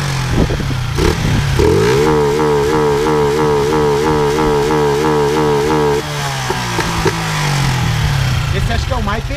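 A Honda Titan KS 125 motorcycle with a competition CDI idles and revs loudly up close, holding a steady buzzing drone before its rhythm changes and it sputters and pops as the key is switched on and off, with a voice talking over it.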